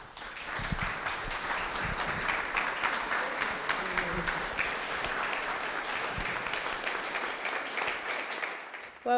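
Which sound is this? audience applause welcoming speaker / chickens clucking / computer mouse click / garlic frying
audience applause welcoming speaker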